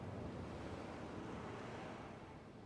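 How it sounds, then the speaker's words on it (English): Hurricane winds and crashing seas in Pillars of Eternity 2: Deadfire as a ship sails into a storm, a steady, faint roar of wind and surf with no distinct breaks. "Hurricane winds roar like an imprisoned beast, blowing with enough force to warp the very seas"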